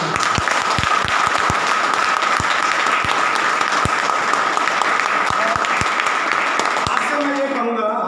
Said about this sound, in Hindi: तो मेरे लिए एक बार जोरदार ताली।